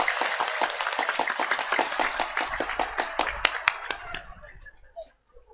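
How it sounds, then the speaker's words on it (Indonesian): Audience at a Ramadan dawn religious gathering claps together: a lively run of many hands, loud and fairly close, thinning out over the last second into near silence. "Tepuk tangan dingin dong"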